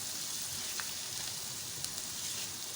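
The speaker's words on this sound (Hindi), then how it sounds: "कुछ सेकंड के लिए हम हल्दी और प्याज को अच्छे से फ्राई करेंगे।" Turmeric and onion frying in a pan for a ridge gourd curry, giving a soft, even sizzle that hisses steadily throughout with no voices.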